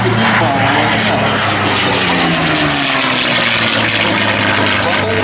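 A propeller-driven D-model warbird passes at the Sun 'n Fun 2012 airshow with a loud, steady engine roar that rises and shifts in tone as it goes by. A commentator talks over the noise.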